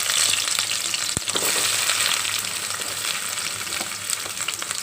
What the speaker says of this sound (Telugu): పాన్ పెట్టాం, నూనె వేసాం కదండి, నూనె కాగింది. ఉల్లిపాయ ముక్కలు వేస్తున్నాం కదా